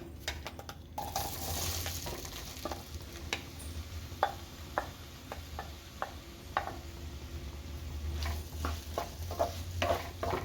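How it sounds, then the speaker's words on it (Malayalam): Chopped ripe plantain frying in hot ghee in a pan, a close, soft sizzle punctuated by frequent light scraping and stirring clicks, with no voices. "ഇനി നമുക്കിതിലോട്ട് അരിഞ്ഞു വെച്ചേക്കുന്ന ഏത്തപ്പഴം ചേർത്ത് കൊടുക്കാം"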